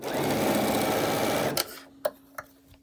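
A sewing machine stitches a quarter inch quilting seam in a fast, even whirring run for about a second and a half, then stops, followed by a few sharp clicks and taps.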